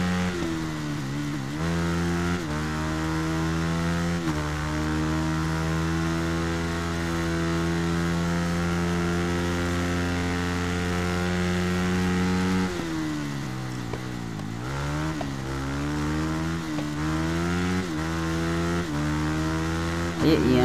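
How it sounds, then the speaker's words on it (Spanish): A racing motorcycle in the video game Ride 3 runs a time trial, its engine droning loud and steady with rising revs, sharp gear-shift dips and a brief deceleration midway, continuous throughout. "Guau, y cómo corre la moto,"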